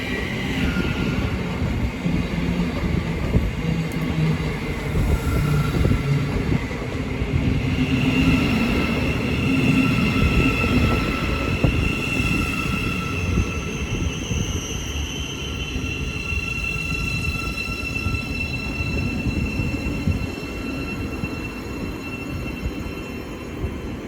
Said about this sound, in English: Now departing is the 1511 Thameslink service from Horsham to Peterborough.